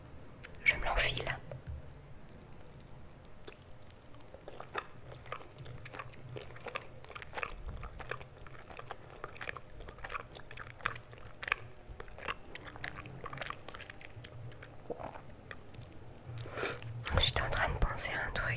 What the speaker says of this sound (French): il faut mâcher 33 fois l'aliment que nous avons dans la bouche